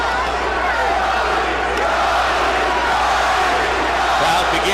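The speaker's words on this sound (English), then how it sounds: "Crowd begins to chant immediately for the love of their lives." A boxing arena crowd roars in a dense, steady wall of voices during the Arturo Gatti vs James Leija fight, with commentary running over it throughout.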